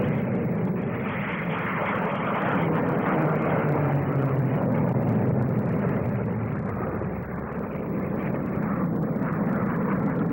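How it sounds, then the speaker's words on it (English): Navy Seahawk jets in an aerobatic team display at the 1958 Farnborough air show, a steady loud roar of jet engines sustained throughout without a break. "Sheer spectacle, the Navy's aerobatic team of Seahawks."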